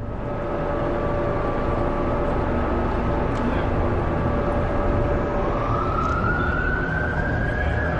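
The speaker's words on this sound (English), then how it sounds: "Well, there's the ambulance." An ambulance siren on a street wails steadily and loudly, holding a sustained tone that rises in pitch near the end, over constant heavy traffic and street noise.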